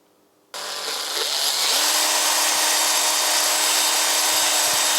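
A power drill turning a honing tool in an engine block cylinder bore whirs up to a steady, high-pitched spin and keeps running continuously, close by, with a faint scraping texture.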